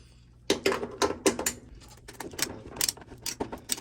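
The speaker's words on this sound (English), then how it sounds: "So I'm just going to go ahead and loosen this bad boy." A screwdriver loosens a screw on a GE washing machine being repaired for noise, giving a few close, sharp ratcheting clicks followed by softer scraping and rattling.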